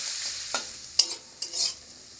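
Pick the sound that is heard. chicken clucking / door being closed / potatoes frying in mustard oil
potatoes frying in mustard oil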